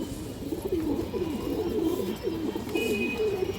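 Pigeons kept at a bird seller's loft coo in low, rolling, repeated phrases nearby, with steady background hiss and no speech.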